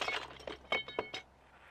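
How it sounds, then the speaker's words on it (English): Glass smashes in the video game Lego City Undercover, a quick run of bright shattering crashes and tinkling shards that lasts about a second before fading to quiet. "Duncan, smash that glass for me."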